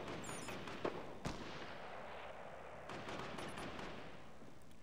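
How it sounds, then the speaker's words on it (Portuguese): Gunfire and explosions rumble from somewhere below in a Fortnite match, a steady low roar broken by two sharp close bangs early on and a burst of distant shots near the end, with no voices. "Tiro porrada e bomba rolando lá embaixo"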